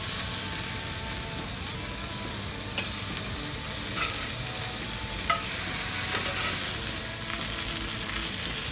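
Deer burger patty sizzling in grease in a cast iron skillet, a steady close frying hiss with a few light scraping touches as the grease is spread around.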